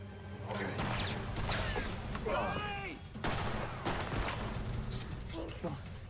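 Gunfire in a TV drama scene, sharp cracks and bursts of shots scattered among crashes and shouting voices, loud and close with a busy, chaotic mix.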